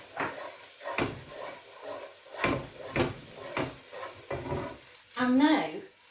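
Ginger, garlic and finely chopped green chilli stirred in a pan, with a spoon scraping in several close, uneven strokes over a soft sizzle, ending in a brief clatter.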